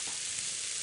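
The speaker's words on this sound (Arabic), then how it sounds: "وهنحط الميه" Water hits a hot pot while cooking rice with vegetables, giving a steady, loud, bright hiss of sizzling with no pause.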